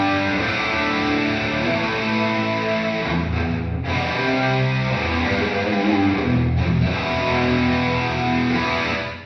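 A sustained, distorted electric guitar through a 2x12 Recto cabinet rings out in chords, thickened by a shimmering tri-chorus and washed in spacious ambient reverb, playing alone for several seconds.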